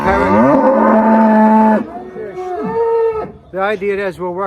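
Cows and calves held in pens on a farm moo loudly and close, one long drawn-out low call followed by several shorter, higher bellows overlapping.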